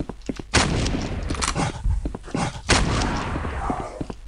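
Gunfire during a boss fight against Lilith in the first-person shooter Requiem: Avenging Angel, loud heavy shots booming at intervals with sharp thuds and rattles between them, no voice over it.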